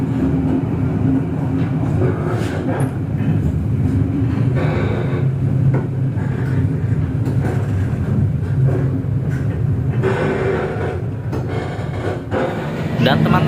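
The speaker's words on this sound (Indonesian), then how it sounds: "saat ini kereta api Jayakarta berhenti di stasiun Caruban" The Jayakarta premium economy passenger train sits stopped at Caruban station, a steady low rumble and hum from the carriages that runs throughout, with a person talking nearby.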